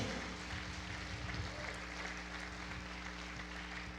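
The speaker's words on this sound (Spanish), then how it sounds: "Dale un aplauso al Señor." Church congregation clapping in praise during a Spanish-language service, a continuous wash of applause over a steady low hum, fairly even in level throughout.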